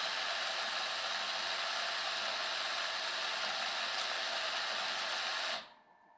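A La Marzocco Jay coffee grinder grinds an espresso dose with a steady, even whir and hiss that runs without a break for several seconds, then cuts off abruptly into quiet.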